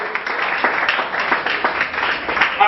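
A church congregation claps and applauds in a dense, bright wash of hand claps, loud and steady for a few seconds without a break.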